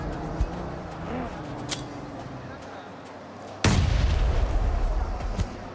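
Grenade blasts in PUBG Mobile during an esports finals match: a sharp crack near the start, then a heavy close boom that leaves a loud, sustained rumble and scattered impacts.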